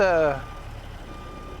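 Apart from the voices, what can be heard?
truck reversing beeps in American Truck Simulator video game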